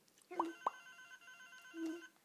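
A telephone rings with a few short electronic ring tones, spaced apart and fairly faint, in an otherwise quiet room.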